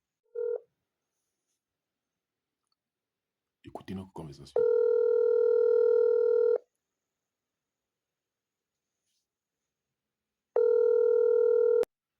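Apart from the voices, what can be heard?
telephone dialing and ringing tone when placing a call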